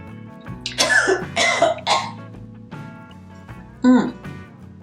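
Several harsh coughs and throat clears from someone irritated by inhaling powdered makeup, close to the microphone in a quiet room: a cluster of bursts, then a pause and one final cough.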